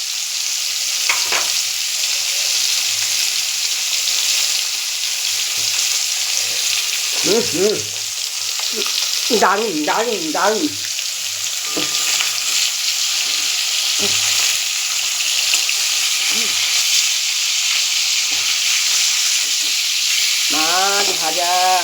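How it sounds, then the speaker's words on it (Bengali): Rohu fish frying in a pan, with a loud, continuous oily sizzle throughout and a few short voiced exclamations rising above it. "তোমাদের সামনে দেখালাম রুই মাছটা ভাজছি।"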